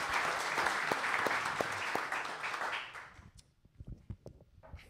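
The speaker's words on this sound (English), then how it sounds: "so have another hand for Mike." Loud audience applause from a gathered crowd, sustained clapping for a few seconds that cuts off abruptly, followed by a few faint scattered claps and room noise.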